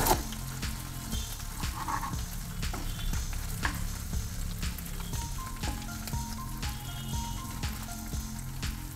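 Curry leaves sizzle and crackle steadily in hot oil in a pan while making a potato pepper fry, with occasional stirring clinks over a continuous frying hiss.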